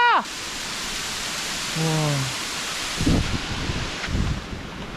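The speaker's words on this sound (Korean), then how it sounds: "비가 많이 오는데" Heavy rain falling on a mountain trekking trail in the Nepal Himalaya at around 2000 m, a steady broadband wash with wind buffeting the microphone, plus a few brief tonal chirps and thumps partway through.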